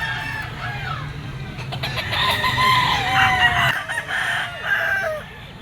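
A yellow-legged Picom gamefowl rooster crows and clucks close by, with other fowl calling around it at a busy market setting.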